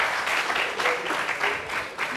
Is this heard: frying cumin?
no